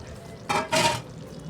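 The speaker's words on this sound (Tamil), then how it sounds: "இந்த ஸ்டேஜில் நான் மீனை குழம்புக்குள்ளே போட போகிறேன்." Fish pieces dropped into a boiling, bubbling fish curry (meen kuzhambu) in a pan, two short close splashy bursts over a quiet background.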